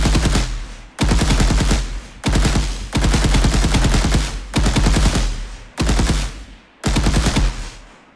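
Gunfire from an Unreal Engine third-person shooter video game, loud close bursts of rapid automatic shots, about seven volleys of roughly a second each separated by short pauses, with no voices.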